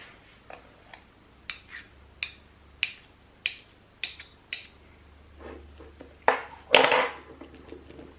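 Teaspoons clink and scrape in a bowl, about a dozen sharp metallic taps spaced irregularly, ending with a louder scraping clatter, up close and with no talking.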